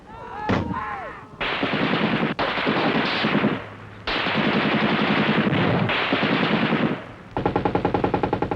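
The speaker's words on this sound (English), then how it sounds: "As bullets crack through the trees" Sustained automatic gunfire in a bush firefight, long loud bursts of rapid shots with sharp cracks of bullets passing through trees, a few brief pauses between volleys and no talk.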